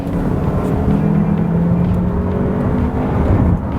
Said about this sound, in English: let's see how the engine does with a little acceleration run here